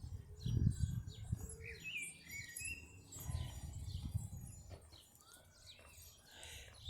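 Small birds chirp and tweet while bathing and squabbling in gravel-lined baskets at a garden pond, with faint scattered calls over low rustling and splashing fluttering.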